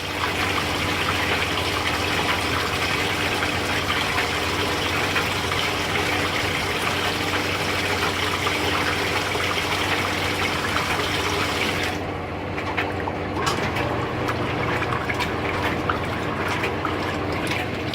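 A 2017 Speed Queen top-load agitator washer fills with water in a steady, loud gushing stream that continues unchanged for a long stretch before the flow softens and thins near the end.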